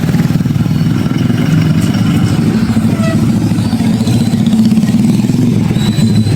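Traffic on a busy street near a lechon festival: a continuous throb of idling and passing motorcycle and car engines, loud and near, with no pauses.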